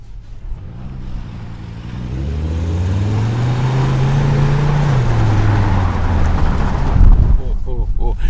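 A Skoda car engine drones steadily while driving, its pitch rising and then falling back, with talk heard faintly beneath the road noise.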